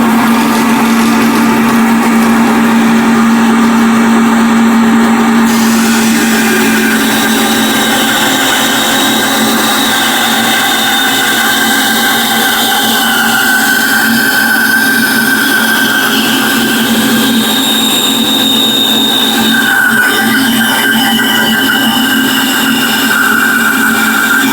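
A bandsaw rips a board lengthwise in a loud, steady, continuous whine with a droning hum, close by and running alone for the whole stretch.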